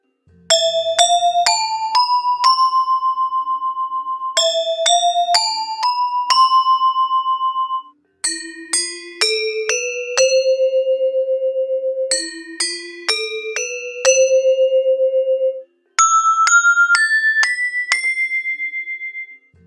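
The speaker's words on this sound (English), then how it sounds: "Slendro is a five equidistant tones in an octave, and it sounds like this." Bright, bell-like gamelan metallophone tones play short ascending and descending phrases in the five-note slendro scale, ringing clearly and alone with a gentle, tuned shimmer.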